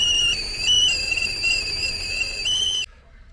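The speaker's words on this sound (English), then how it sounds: "So there we go, the Campervan whistling kettle." A whistling kettle boiling on the stove of a VW T5 campervan gives a loud, sustained shrill whistle whose pitch wavers and steps up and down for nearly three seconds, then cuts off abruptly into near silence.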